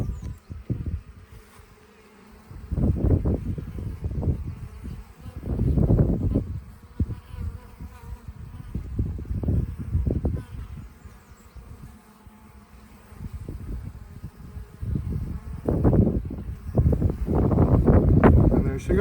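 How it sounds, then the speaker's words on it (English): Honeybees buzz around a hive during a transfer from a top bar hive to a Langstroth hive, their droning rising and falling in repeated waves, with wind noise in the background. "we're going to shake some more bees in here."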